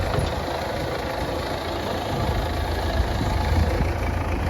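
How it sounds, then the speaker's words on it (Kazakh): A tractor engine runs with a steady low rumble that swells slightly as it pulls away, loud and close with no voices over it. "Трактор кетті"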